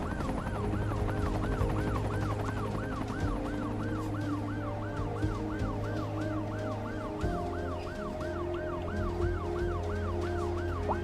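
Wailing ambulance siren in the city-building game Cities: Skylines 2, a steady, regular up-and-down sweep repeating about every half second, loud and continuous over a low engine-like drone, with no speech.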